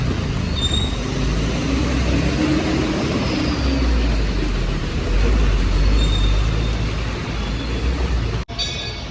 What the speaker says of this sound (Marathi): फायनली आपली गाडी आले